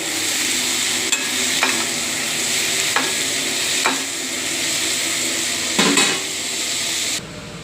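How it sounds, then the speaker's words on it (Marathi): Cabbage stirred and fried in a pan with cooked tomato: a continuous sizzle broken by several distinct spoon scrapes and knocks against the pan, close and without speech. "कोबी हलवून घेऊया।"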